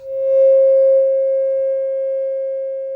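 A steady 500 Hz test tone driven at about half a volt through a Fender Hot Rod Deville guitar amp, one unbroken pure hum with a faint low rumble at the start, close and moderately loud, slowly fading a little until it cuts off.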